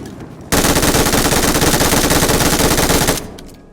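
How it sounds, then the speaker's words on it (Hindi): A sustained burst of automatic gunfire from outside the zone in the PUBG Mobile video game, a loud rapid rattle of shots lasting about two and a half seconds, then cutting off into quiet game ambience. "यहाँ पे जोन के बाहर से गोली चल रही होती है"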